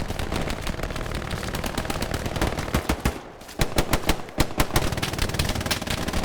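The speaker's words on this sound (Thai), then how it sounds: "ปืนกลยิงมาทาง 190 ระวังนะ" Sustained machine gun fire in the World War II shooter Hell Let Loose, rapid dense bursts with a brief pause near the middle, then renewed bursts, loud and close.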